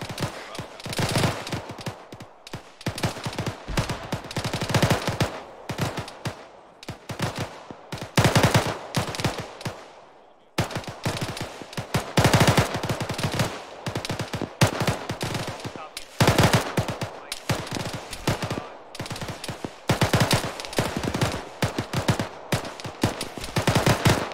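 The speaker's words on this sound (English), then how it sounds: "Get some suppressing fire into the compound." Sustained suppressing machine gun fire in the military shooter ArmA 3, loud rapid bursts rattling almost continuously with a brief pause midway, dense overlapping shots from several weapons.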